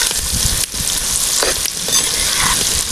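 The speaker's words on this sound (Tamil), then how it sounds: "இப்போ ஒரு 4 கட்டி பல் பூண்டை வந்து உரித்து வச்சுருக்கோங்க ஒருவர்களே. அதையும் வந்து உள்ளே சேர்த்து அப்படியே வதக்கிக்கலாம்" Peeled garlic cloves sauté in hot oil in a pan while pirandai pickle is being made, giving a loud, constant, close sizzle with occasional stirring scrapes throughout.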